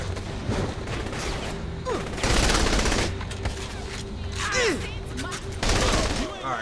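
Rapid gunfire bursts from the video game Saints Row: The Third, loud and close, with short volleys and bangs over ongoing game noise and a voice talking.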